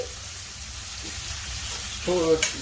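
Onions frying in hot oil for methi chicken give a steady, close sizzle throughout, swelling briefly near the end as they are stirred in the pan.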